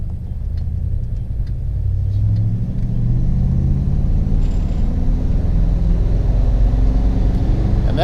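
A 1958 Plymouth engine accelerating from inside the car, a steady low rumble that builds gradually under partial throttle and stays loud and close throughout, with no talking.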